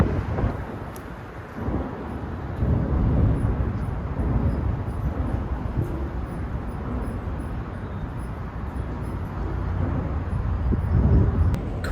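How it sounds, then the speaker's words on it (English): Steady traffic rumble of cars crossing overhead on the Golden Gate Bridge, heard from underneath, a continuous low roar with wind buffeting the microphone throughout. "You can hear the cars going over."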